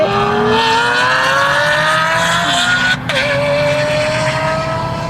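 Cars racing from a rolling start on an airstrip, including a Dodge and a Mustang. Loud, close engines rise steadily in pitch as they accelerate, with a brief gear-change dip midway and no talking.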